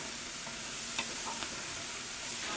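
Vegetables coated in duck fat sizzle in a pan with a steady, dense crackle and hiss, with a few faint clinks of stirring.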